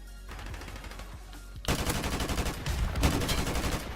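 AK-47 firing in the video game Modern Warfare Remastered, a loud stretch of rapid tap-fired shots starting abruptly after a quieter lead-in, each burst sharp and close with ongoing game ambience.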